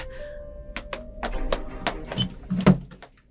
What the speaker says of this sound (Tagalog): Nasira ko na ang kandado. Ngayon, bubuksan ko ang pintuan.